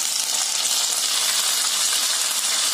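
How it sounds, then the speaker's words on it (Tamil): Hot ghee with fried cashews, coconut and raisins is poured into wheat payasam, giving a steady bright crackling sizzle that stays even and close throughout, with no talking. "வறுத்தாங்க, இந்த நெய்யோடைய அப்படியே பாயசத்தில் சேர்த்திருங்க."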